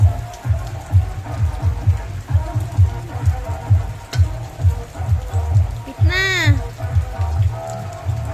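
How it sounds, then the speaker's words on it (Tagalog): Heavy rain patters steadily on a surface in a rural province, with a low rhythmic thumping underneath and a brief warbling tone near the end. "grabing ulan na guys"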